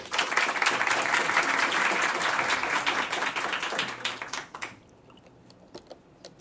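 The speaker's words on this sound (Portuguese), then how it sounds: "Uma salva de palmas para ele" A seminar audience breaks into steady applause for a professor being called up to present, loud and dense at first, then thinning out and fading to near quiet by the end.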